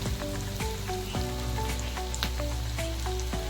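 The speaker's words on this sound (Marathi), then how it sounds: "आपला कांदा चांगला शिजून घ्यायचा आपल्याला मऊ करून घेऊया" Onion cooks in a pan for besan pithla, a close, continuous sizzle and crackle with occasional stirring clinks, steady and without any talk.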